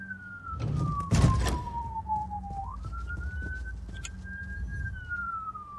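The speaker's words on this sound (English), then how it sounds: "Sorry if you can hear the sirens." A police siren wails outside in the background, its tone sliding slowly down and then back up, distant behind a few nearby knocks and thumps.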